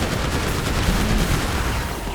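Sustained gunfire from GTA V with a Deadpool mod, a steady dense rattle of rapid shots that runs loud and continuous the whole time with no pauses, no talking over it.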